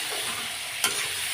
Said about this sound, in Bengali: এবার নাড়াচাড়ার পালা।